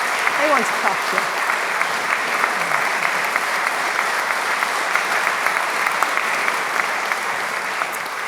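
Sustained applause from a graduation ceremony audience at the University of Bath fills the hall, dense and steady throughout with a few voices faintly mixed in.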